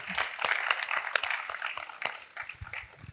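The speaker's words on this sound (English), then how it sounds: "we can clap for our own country if we can say" Audience clapping during a lecture on intellectual property and traditional knowledge: quiet, scattered claps of varying strength run throughout the short stretch with no talk over them.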